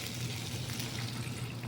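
Water pouring steadily into a pot of pork being cooked for Filipino binagoongan to soften the meat, a continuous close hiss and splash with no talk.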